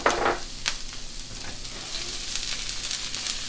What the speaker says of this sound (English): let's do a quick saute. I've got this on 3/4 heat. I'm putting the shallots in.